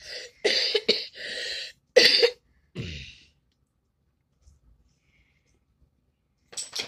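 A person coughs several times in quick, harsh bursts close by, followed by silence and one more short cough at the end.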